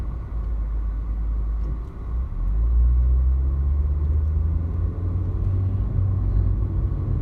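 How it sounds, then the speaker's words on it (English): A small car drives along with a steady low engine rumble and road noise, swelling slightly around the middle as it picks up speed, with no talking. "Still loving this car. For a little car, it's got a little zip to it."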